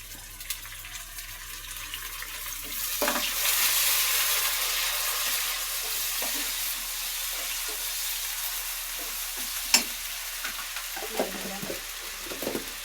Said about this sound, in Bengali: এখানে পেঁয়াজ প্রথমে তেল ভাজি নিচ্ছি